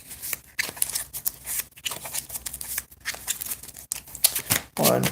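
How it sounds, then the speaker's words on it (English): A deck of trading cards is shuffled repeatedly, with quick riffling and flicking bursts in an uneven rhythm, close and fairly clear, with a person talking intermittently between them. "Anyways, shuffle deck a little bit more."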